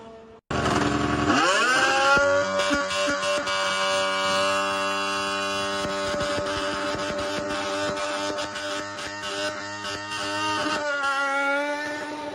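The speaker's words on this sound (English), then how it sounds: "Ooh, Audi engine sound." Audi Formula 1 car engine during preseason testing, a loud, sustained high-pitched whine that rises sharply at the start, then holds and wavers steadily as the car passes, with no speech.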